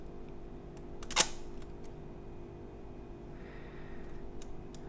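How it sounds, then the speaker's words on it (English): The shutter on a Nikkormat FTN film SLR is released once, giving a single sharp, close mechanical click, followed by a quiet room with faint handling noise. "So that's the shutter release."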